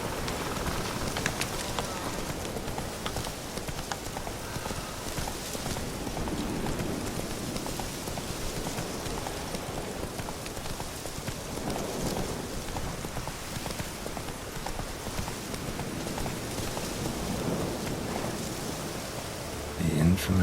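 Rain falls steadily as a dense, even hiss in The Witcher 3, with faint scattered thuds beneath and a brief louder knock at the end.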